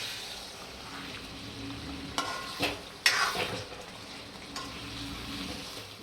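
Mutton chaap pieces stirred in a hot pan, a steady sizzle with a few scraping strokes of the spoon, close and moderately loud, no voices.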